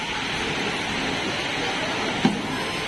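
Heavy, stormy rain falls during a train journey as a dense, constant hiss, broken by one brief sharp knock near the end.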